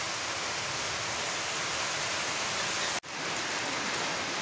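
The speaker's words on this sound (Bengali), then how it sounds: "বাইরে বৃষ্টি হইতেছে" Steady rain falls outside as a dense, even hiss, continuous and fairly loud, with one abrupt short break near the end.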